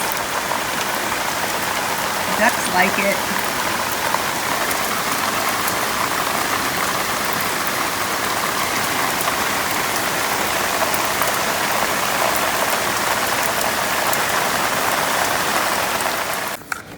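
Sudden heavy rain pours down outdoors, a dense, steady hiss of drops drumming on surfaces that stays loud and unbroken throughout, with a brief spoken remark early on.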